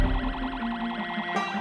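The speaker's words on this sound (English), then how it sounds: "They really like that siren, more than they like my shotgun." A wailing siren in the Project Zomboid video game sweeps up and down in a steady, loud oscillation, drawing zombies, with a sharp click-like change near the end.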